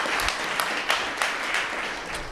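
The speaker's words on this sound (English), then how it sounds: "You guys should give Jeff an applause really quick." An audience at a university venture demo day awards ceremony applauds, dense even clapping from many hands filling the room, fading slightly at the end.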